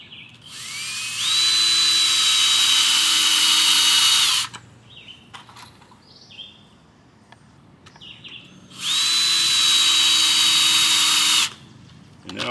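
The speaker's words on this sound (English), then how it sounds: "let's get four screws started" Power drill driving screws into an easel board in two long whining bursts, each spinning up and holding a steady high pitch for about three seconds, separated by a quiet pause with faint handling noise.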